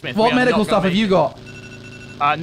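An alarm in a video game signalling that the time on a car has run out: a steady electronic ringing tone sounds between bursts of loud talk, held for about a second before the voices resume.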